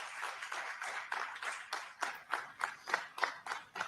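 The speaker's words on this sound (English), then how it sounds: "Well-deserved applause." Faint, fairly distant audience applause, clapping that settles into a slow rhythmic beat of individual claps with no talk over it.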